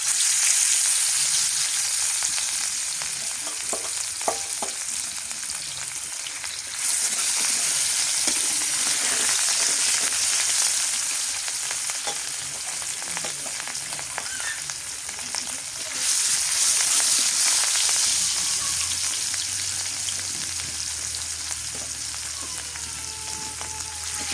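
Pieces of rohu fish fry in hot oil for a Bengali kalia with a dense, crackling sizzle that goes on continuously. The intensity swells and eases at times, and a low hum comes in near the end.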